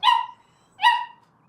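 A puppy shut in a crate lets out two high, drawn-out whimpering cries, each about half a second long and separated by a brief pause, close and clear against a quiet background.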